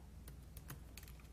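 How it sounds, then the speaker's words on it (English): Fingers tap quickly on a computer keyboard as a web form is filled in, with a quiet run of about eight crisp keystrokes at an uneven pace over a low background hum. "I'm not really good at talking and typing at the same time"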